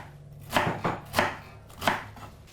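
A knife chopping through Napa cabbage on a board, four distinct crunchy cuts spaced unevenly, close and clear with no talking.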